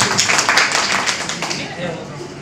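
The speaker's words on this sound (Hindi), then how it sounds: "आप लोग तालियां बजाएं" Clapping from people gathered at a press conference, a loose rhythm of hand claps, close and fairly loud, with voices talking over it.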